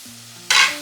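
Food cooking in a pan, left to steam with tomato about to be added: a low tonal hum, then a sudden burst of bright sizzling that swells and slowly eases off.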